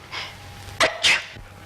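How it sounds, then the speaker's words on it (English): A person sneezes indoors, a brief sharp double burst with a short breathy intake before it, close and fairly loud. "I'm going to sneeze."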